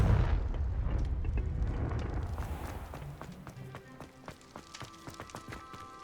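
Fiery Confringo spell blasts from a wizard's wand in the Hogwarts Legacy video game, a heavy rumbling explosion that roars loudly at first, then thins into scattered crackling hits and debris over several seconds.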